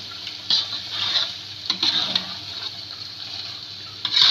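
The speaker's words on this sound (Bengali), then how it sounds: "আলুটা দেওয়ার পরে এইভাবে নাড়া দিয়ে নেব বেশ কিছুক্ষণ" Potatoes and fish being stirred in a frying pan for a traditional Rajshahi curry, a soft continuous sizzle with scraping strokes of the spoon that come in short bursts and repeat through the stretch, heard close with no talk.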